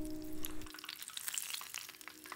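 Steady crackling sizzle of lotus-blossom puff pastry deep-frying in hot oil, dense and continuous, with a low hum fading out early on.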